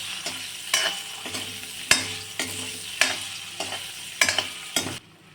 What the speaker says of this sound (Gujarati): હવે એ જ કઢાઈમાં હું બસો ગ્રામ જેટલા હું પનીર નાખી દઈશ હવે એને પણ હું સેલો ફ્રાય કરી લઈશ